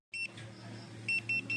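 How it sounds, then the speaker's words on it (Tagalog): A cafe order buzzer near Mt. Arayat beeps in short, high, repeated bursts over a low steady hum of engine-like background noise. "tumutunog na yung buzzer natin"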